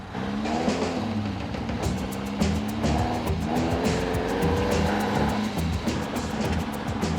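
A small open Lotus 7 kit car drives through traffic, its engine a steady, close drone with shifting revs and a faint rhythmic ticking over the top.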